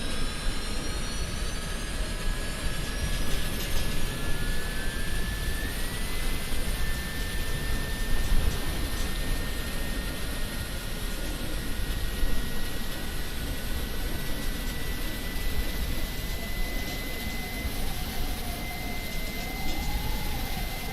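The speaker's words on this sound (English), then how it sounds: "Sounds like the APU is good and fired up." An auxiliary power unit runs on an iniBuilds A300 airliner in Microsoft Flight Simulator, a steady turbine whine over a broad rushing hum that holds constant and fairly loud with a faint pitch sweep near the end.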